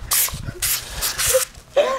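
A can of whipped cream sprays in several short, hissing bursts, each lasting about a third of a second, with brief pauses and a little background chatter and squealing between them.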